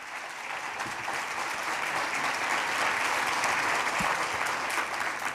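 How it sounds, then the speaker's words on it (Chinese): Sustained audience applause welcoming the president at a national prayer breakfast event, a dense, even wash of clapping from a large crowd that holds steady throughout. "所有的来宾，我们用热烈的掌声拍手欢迎我们的总统来莅临"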